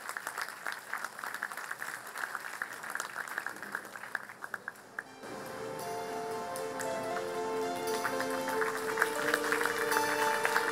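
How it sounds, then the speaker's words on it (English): Audience applause for a group of children who have just sung at a school talent event, a steady dense patter of clapping that starts softer and swells fuller and louder midway, continuing throughout. "A big round of applause for all these lovely children."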